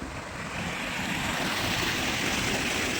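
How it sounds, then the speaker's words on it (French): Stream rushing past an old mill on the GR 6 trail between Gramat and Rocamadour, a loud, continuous broadband wash of flowing water with some wind noise, close and unbroken. "Avec le cours d'eau qui passe juste là."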